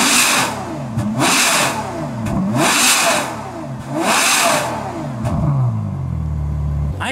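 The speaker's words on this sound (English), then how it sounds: "let's rev this in off and then compare it with on" Ferrari F12 with an Innotech IPE exhaust, valves closed, revved up four times in rising-and-falling sweeps, loud and close, then dropping to a steady idle burble at the end.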